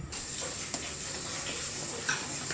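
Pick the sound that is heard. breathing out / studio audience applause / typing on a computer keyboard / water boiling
water boiling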